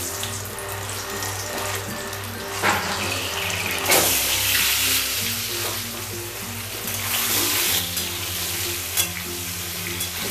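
Semolina balls seasoned with chili powder frying in a pan of oil, a continuous sizzle with scraping clatter as they are stirred, with occasional louder spatters and no talking.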